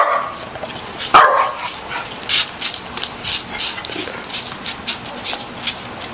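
A small dog barks in a few quick, scattered bursts amid a lively outdoor scene where a turtle is chasing it, with faint background noise and no clear speech.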